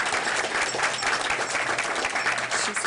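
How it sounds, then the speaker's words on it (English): A crowd at a school board meeting claps for an honoree, a steady wash of many hands applauding at middling loudness, continuous for about three seconds with no speech on top. "Can we clap?"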